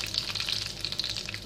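Cumin seeds, bay leaf and dried red chillies crackle in hot oil, a bright continuous sizzle with quick fizzing pops close by.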